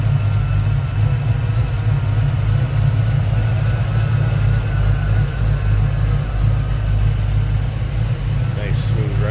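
A 1971 Chevrolet Nova with a 400 small block V8 idles close by in a steady, deep, loud rumble that stays even throughout with no revving.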